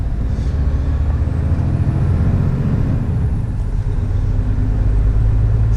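Air brakes on a Scania G480 truck hauling a long trailer hiss loudly and broadly under steady engine and road rumble, lasting the full stretch with no break.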